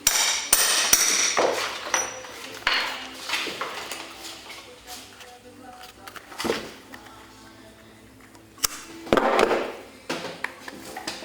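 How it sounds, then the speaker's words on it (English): Hammer blows riveting a piece while assembling an axe: sharp metallic strikes in irregular bursts, close and loud, with quieter gaps between them. "The next step here is to put this piece in and rivet that together."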